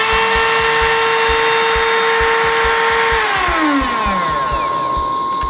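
A handheld router cuts MDF with a loud, steady high-pitched whine over a fast rhythmic chatter, then its pitch slides sharply downward as the motor spins down near the end.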